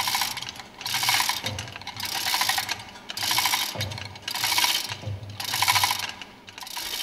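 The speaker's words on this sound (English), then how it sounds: "Pull the center screw of the tool to lift the plunger clear of the bayonet joint in the roller guide" A fuel pump overhaul tool's center screw is worked in repeated ratcheting bursts, a close, clicking mechanical rattle that comes in five or six even pulses with short pauses between.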